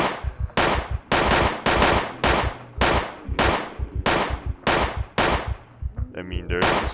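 Loud, close volleys of gunfire in the zombie survival game Project Zomboid, sharp cracking shots coming in quick repeated bursts of two or three with short gaps, ending in a metallic clatter.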